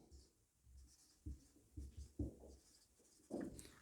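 Pen or marker writing on a board or paper during a science lesson, a few soft scratchy strokes in short bursts, quiet and close, with no talking.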